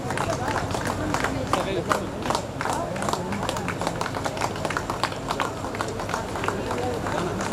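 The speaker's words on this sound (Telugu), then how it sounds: "ప్లీజ్ క్లాప్స్ ప్లీజ్, చప్పట్లు కొట్టండి." An audience claps at a school class-of-2001 reunion get-together: dense, rapid, steady clapping fills the whole stretch while a voice talks over it.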